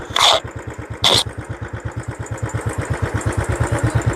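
A motorcycle idles at the Ilaveezhapoonchira viewpoint with a steady, even chugging pulse that grows slightly louder. Two short, loud hissing bursts break in near the start.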